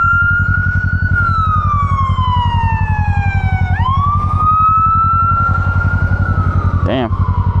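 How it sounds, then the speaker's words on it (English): A fire truck siren wails nearby, its long tone sliding down and back up, with a short sharp yelp near the end, over the steady throb of an idling motorcycle engine. "Got a fire truck coming through."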